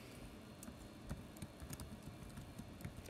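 Typing on an iPad on-screen keyboard in Microsoft Word, a steady run of soft, quiet taps close by with no voice over them.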